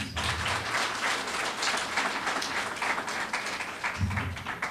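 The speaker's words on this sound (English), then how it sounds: "Please to give them a round of applause, please" A crowd at a school achievement awards ceremony in South West St Elizabeth claps continuously for award-winning students, a sustained, close wash of hands with a few low thumps near the end.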